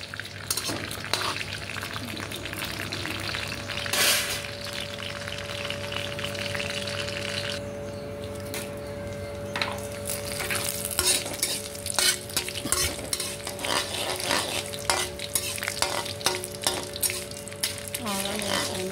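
Mustard seeds and dried red chilies fry in hot oil in a pan, a steady loud sizzle with crackling pops and occasional stirring clinks of utensil against the pan, continuing the whole time without speech.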